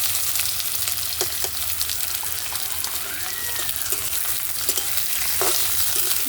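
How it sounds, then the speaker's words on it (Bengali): Chopped onion frying in hot oil in a kitchen pan makes a continuous hissing sizzle with faint scraping and clatter mixed in. "তেল গরম হয়ে গেছে পেঁয়াজ কুচি দিয়ে দেবো"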